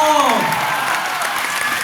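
A seminar audience at a corporate training session in India bursts into loud applause; a brief voiced tone opens the moment before the clapping swells into a full, steady roar.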